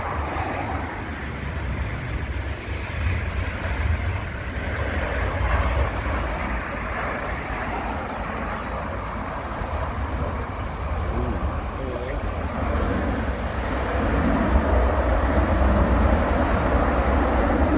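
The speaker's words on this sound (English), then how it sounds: "This Boeing 737 was landing in strong winds when the plane became unstable" Engine roar from a Boeing 737 landing in strong winds, a steady broadband rumble with wind-like noise that swells toward the end.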